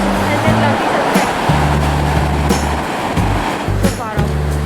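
Ocean waves roll and crash steadily on a surfing beach at Hikkaduwa, Sri Lanka, a loud continuous wash of surf with low rumbling undertones throughout.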